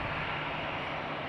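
A small airplane taking off at Raleigh-Durham International Airport gives a steady, broad distant roar, faint and continuous for a brief moment.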